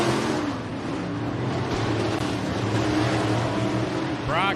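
Race cars roar around Rapid Speedway on a Friday night, a dense, loud engine drone from several cars at once that holds steady, with a rising rev sweep near the end.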